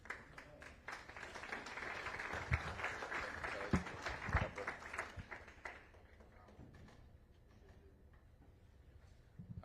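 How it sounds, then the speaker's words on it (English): A meeting audience claps for candidates at a candidate forum. The applause is faint and scattered, with sharper individual claps that thin out and fade into quiet room noise. "Give them both a big round of applause."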